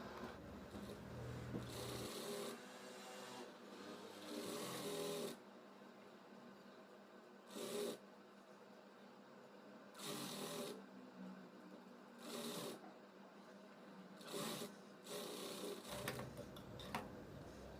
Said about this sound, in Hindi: किनारी फोल्ड करने के बाद ये ऊपर से हम एक टॉप स्टिच लगा लेंगे यहाँ से यहाँ तक।